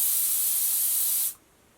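A cosmetic aerosol spray bottle hisses onto bare skin of an arm in one continuous close burst lasting over a second, then cuts off abruptly to near silence.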